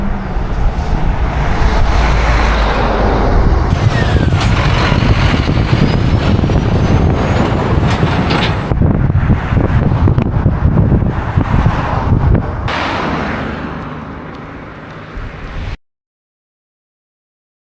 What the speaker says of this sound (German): Die LKWs kommen ziemlich nah.